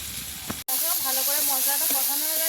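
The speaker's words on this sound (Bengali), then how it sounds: "মশলাটা ভালো করে কষাবো" Spices frying in goat fat in a pan, a steady hiss and sizzle that starts abruptly and holds close and loud, with faint stirring scrapes beneath.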